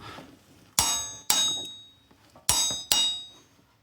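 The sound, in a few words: torque wrench clicking when tightening flywheel bolts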